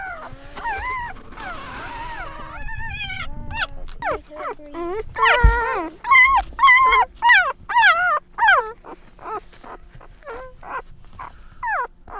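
Abandoned puppies in Tafraoute, Morocco whimper and yip in a rapid string of high, close, loud cries that quicken toward the end, with people talking under and between them.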